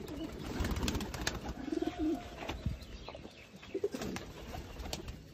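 A teddy breeder pigeon coos in short soft bursts at close range, with a few low throaty calls spread over several seconds against light background noise.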